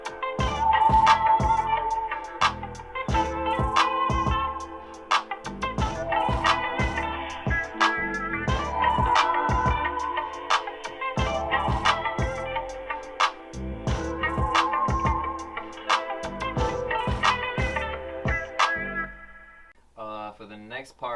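Produced beat with bass line and drums playing together, steady punchy kicks and snares under a repeating melodic bass and synth pattern, looping for about twenty seconds before fading out.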